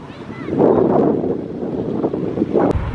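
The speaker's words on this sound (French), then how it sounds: "on est face à un vent super doux, trop agréable" Soft wind gusts buffet the microphone at a seaside cove near Nador, Morocco, a steady, rumbling rush that swells and eases over a few seconds with no clear speech.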